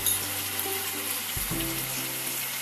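Tomatoes go into a hot pot for a vegan Greek bouyiourdi and sizzle steadily, with a soft thump partway through as more lands in the pot. The sizzle is close and there is no talking.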